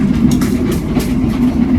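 An Argo Dwipangga express rushes past in the opposite direction, heard from aboard the KA Madiun executive train: a steady, loud rolling roar with a low rumble and quick rhythmic bursts of wheel and carriage noise.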